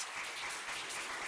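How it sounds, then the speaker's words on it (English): An audience at a hackathon pitch session gives faint, distant applause for the next team, a soft continuous patter of clapping over a short moment. "So, round of applause for 7 pass."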